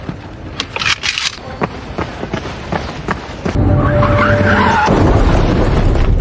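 A car skids and crashes in a film scene: scattered impacts and scuffs lead into a loud, sustained rumbling burst of tire and collision noise filling the last few seconds.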